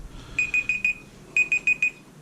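A timer alarm beeping in two quick bursts of four sharp, high electronic tones, with a short pause between the bursts, close and clear with no talking.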